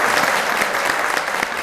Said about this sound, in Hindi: उस हवाले से भी तालियां